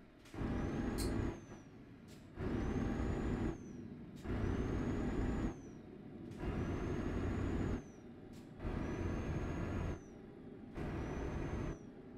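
A Renault Range T truck in Euro Truck Simulator 2 hisses its air brakes again and again, six loud, evenly spaced bursts of rushing air, each lasting about a second and a half, with brief pauses of engine rumble between them.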